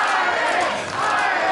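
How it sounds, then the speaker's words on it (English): Wrestling fans in a crowd cheer loudly and steadily for the Irishman during a Pure Power Wrestling match, a dense roar of voices with no clear breaks. "And these fans behind the Irishman cheering for Irish."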